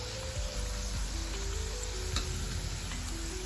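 Sago and potato chakli fry in hot oil with a steady, soft sizzle that continues throughout at a low level, with no talking.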